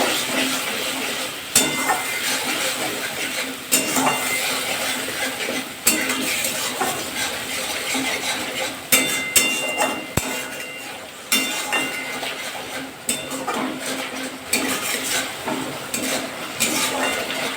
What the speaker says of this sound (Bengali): নাড়াচাড়া করে মশলাটা কষে ভালো করে